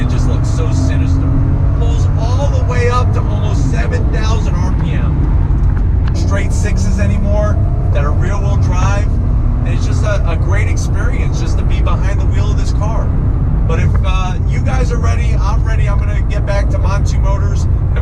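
Engine of a black 1993 Toyota Supra heard from inside while driving, a loud steady low drone running throughout, with people talking over it much of the time.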